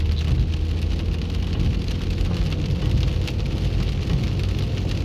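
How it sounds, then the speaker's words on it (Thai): Heavy rain falls in a steady, loud, dense patter on surfaces nearby, continuous throughout with no talking. "ฝนตกเนี่ยเห็นไหม"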